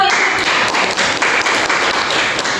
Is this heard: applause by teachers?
yes